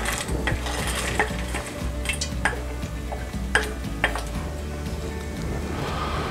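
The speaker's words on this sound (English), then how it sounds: "at this point we're going to add in our frozen vegetables" Frozen carrots and peas go into a pot of chowder with ham and potato, and a spoon clinks and scrapes against the metal in irregular knocks over a low sizzle. No one speaks.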